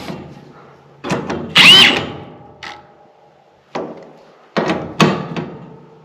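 A power drill drives sheet metal screws into the housing of a Mr. Heater Big Maxx 80,000 BTU shop heater during installation, with several short, close whirring bursts separated by pauses.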